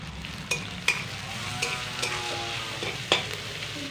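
Chopped onion, green chilli, ginger and garlic fry in oil with cumin, giving a steady sizzle under a handful of distinct metallic clinks and scrapes from a spatula stirring the pan.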